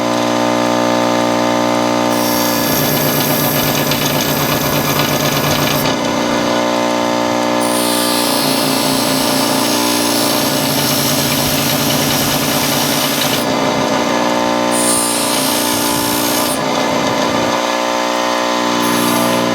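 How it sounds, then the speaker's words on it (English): A broken steel file is ground flat on a grinder: a loud, continuous abrasive grinding that wavers in pitch and pressure as the metal is pressed and lifted, with no talking. "I'm grinding it basically flat."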